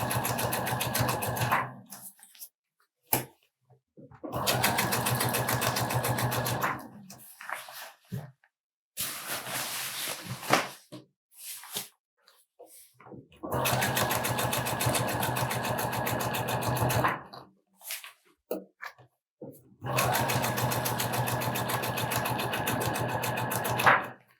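A sewing machine hems a tubular sleeve, stitching in four long steady runs of motor whir separated by short pauses, close and loud with no talking.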